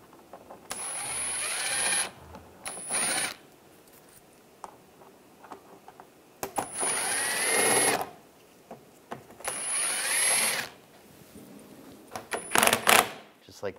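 Ratchet with an 8mm socket loosening screws on the exhaust manifold and catalytic converter assembly of a 2013-2016 Dodge Dart, heard as several short bursts of rapid metallic clicking separated by quiet pauses.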